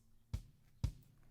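Two isolated kick drum hits in a music production session, deep and punchy with a short low thump, spaced about half a second apart, alone without other instruments.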